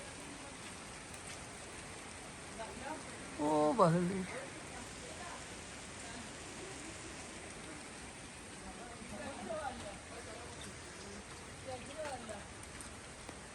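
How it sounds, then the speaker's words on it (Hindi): Steady rain hisses softly in the background in Miandam Valley, Swat, while a voice speaks briefly over it. "फिर बारिश शुरू हो गई"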